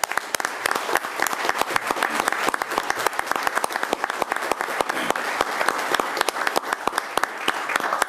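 Dense, sustained audience applause at an annual police awards ceremony, honoring the Springfield Police Department; many hands clap steadily and loudly for the whole stretch with no talking.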